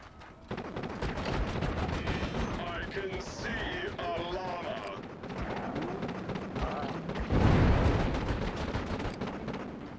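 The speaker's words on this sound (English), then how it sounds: "if I blow it up with the Contra gun, it does an explosion even bigger" Continuous action in the video game Vicious Attack Llama Apocalypse, with booming explosions and rapid gunfire, a louder blast near the end, over a dense, busy soundtrack.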